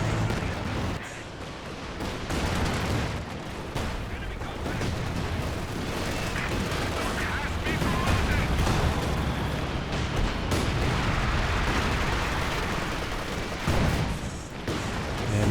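A rocket artillery barrage in Company of Heroes 2, a 4v4 battle on the La Gleize map, forms a loud, unbroken wall of rumbling blasts and crackling impacts for the whole stretch, with no clear pauses.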